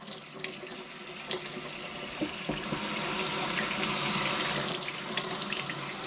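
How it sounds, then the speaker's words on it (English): Warm water running from a kitchen tap into a sink, a steady close hiss that grows fuller midway, with a few small clinks of handling at the start. "Then you just run some, just warm water."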